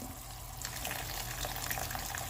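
Water pours into a pot of fish soup, a steady close rush of liquid starting after a brief quieter moment and continuing evenly to the end.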